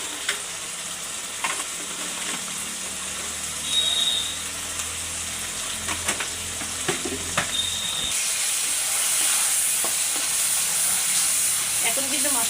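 Spices sizzle and fry in a pan for Bengali chicken kosha, a steady hiss punctuated by stirring scrapes, growing louder and brighter partway through as the pan heats up.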